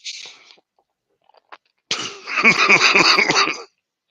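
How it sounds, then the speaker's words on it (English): A brief throat sound, a pause with small clicks, then a loud burst of several harsh coughs close to the mic. "Is that what all that coughing is?"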